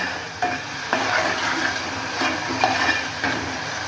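Spice masala roasting in oil in a pan for Vidarbha-style patvadi rassa, with a steady close sizzle and a few soft scraping stirs at intervals.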